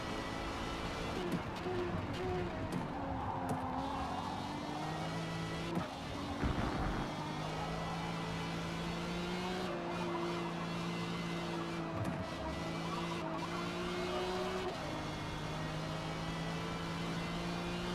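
Race car engines droning around the Catalunya circuit in Forza Motorsport, a steady mid-level whine with shifting pitch through gear changes, continuous and fairly quiet throughout.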